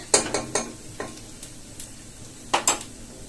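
Onions sautéing in a pan for chicken chukka, with a few quick spatula stirs and scrapes over a soft, steady sizzle, close by and with no talking.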